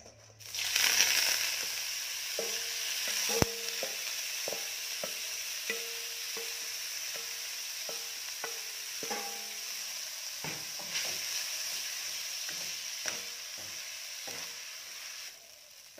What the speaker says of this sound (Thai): ผัดเส้นกันค่ะเพื่อน